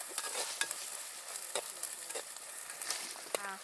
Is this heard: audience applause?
no